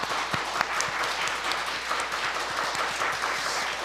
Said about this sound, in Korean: 한번 박수로 환영하도록 하겠습니다